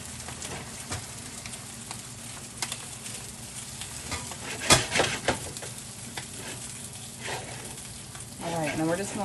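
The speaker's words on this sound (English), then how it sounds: "we're just going to let this saute" Salmon and vegetables sauté in a pan with a steady soft sizzle, occasional clatter of stirring and a few sharper knocks, fairly quiet and close, with faint talk near the end.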